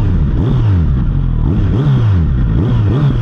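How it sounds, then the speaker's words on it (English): A 2025 Kawasaki Z900RS SE motorcycle with a factory-tuned exhaust can is revved repeatedly, its loud, close engine note climbing and falling in several rhythmic blips with a deep, throaty rasp and no talking. "But man, listen to this exhaust."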